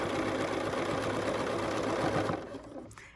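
A sewing machine stitching a quilt, a fast steady mechanical whir with rapid needle clatter, close and continuous before winding down at the end, no talk.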